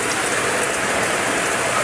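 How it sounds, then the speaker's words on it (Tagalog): Heavy downpour during a typhoon on a flooding street, a dense, continuous roar of rain hitting surfaces at close range with no pauses. "super lakas ng ulan"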